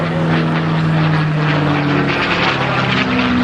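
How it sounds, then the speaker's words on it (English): A P-51D Mustang propeller fighter makes a low, fast airshow pass at LaCrosse, its loud, steady piston-engine roar holding a droning tone before the pitch drops as it goes by. "That is the classic sights and sounds of the P-51."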